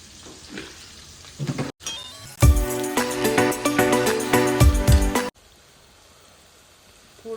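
Chopped onion dropped into hot oil with spluttering mustard seeds, a loud burst of sizzling and frying that runs for about three seconds, stirring clatter around it, then drops back to a quiet low hiss.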